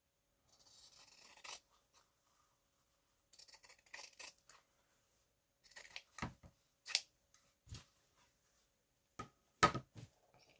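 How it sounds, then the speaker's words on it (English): Scissors snipping small strips of fabric for a junk journal craft project: soft, irregular bursts of cutting, some brief, clustered snips and sharper clicks, quiet and close with no talk. "And I'm going to cut a couple little strips of fabric."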